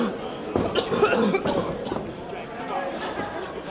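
A wrestler coughs in harsh bursts near the start of a match against Samoa Joe, with a commentator talking over a noisy arena crowd.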